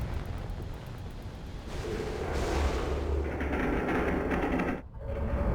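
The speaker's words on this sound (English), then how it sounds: "Awesome corridor explosion." A loud, sustained rumbling blast fills the scene, with crackling debris and low booming layered throughout, then a brief dip before the roar resumes.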